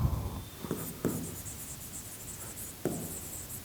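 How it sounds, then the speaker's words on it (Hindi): Handwriting an answer on paper, faint scratching pen strokes with a few louder taps at intervals, close and quiet, with no talk. "इस क्वेश्चन का जवाब देने के लिए तो यहाँ पर लिखेंगे आंसर में कुछ इस तरह से लिखेंगे"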